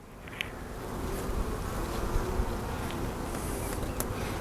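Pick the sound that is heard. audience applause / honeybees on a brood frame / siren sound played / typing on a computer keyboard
honeybees on a brood frame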